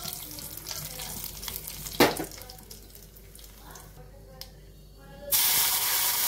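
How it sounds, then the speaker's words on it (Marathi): Cumin seeds, curry leaves and fenugreek seeds sizzle in hot oil as a tempering for kadhi: a soft crackle with one sharp spluttering burst, then a loud rushing hiss near the end. "जिरं छान तडतडले, त्याच्यात घालूया कढीपाला."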